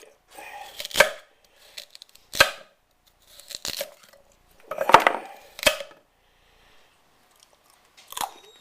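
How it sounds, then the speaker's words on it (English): A kitchen knife cuts through big carrots on a board, producing about seven separate crisp, crunchy chops spaced a second or so apart, close and clear with quiet gaps between. "some of those big carrots you have to slice in half"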